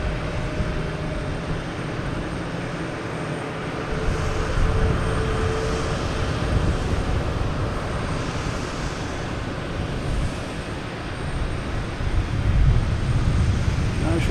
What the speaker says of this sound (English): Oh, I got JetBlue here firing up.